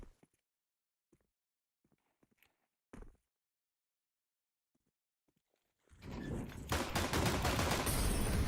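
Pistol gunfire in a Counter-Strike match: a few faint clicks and isolated sharp shots in near silence, then a sudden loud, dense burst of rapid overlapping gunfire that runs to the end.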